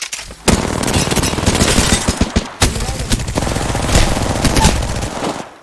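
Loud, sustained automatic gunfire in the video game Apex Legends, rapid bursts of shots with brief breaks and a sharp resumption partway through. A voice talks faintly underneath.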